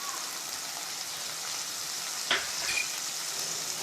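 Cumin and chilli powder roasting in hot oil in a pan for gobi manchuri, a steady close sizzle with a brief stir scrape partway through.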